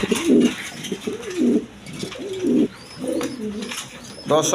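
Coloring Raj Golla pigeons coo close by in a series of soft, rolling, repeated calls with short gaps between them.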